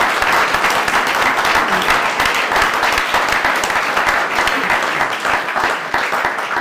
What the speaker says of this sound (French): je pense qu'on peut l'applaudir et féliciter toute l'équipe enseignante et administrative du lycée Jacquard